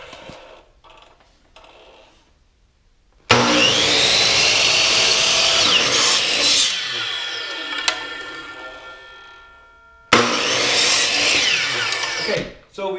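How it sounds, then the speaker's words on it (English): A power tool cuts through wooden dowels for a floating shelf build, running loud and steady in two long bursts separated by a pause, with quieter workshop handling sounds before the first cut. "so we've cut our dowels"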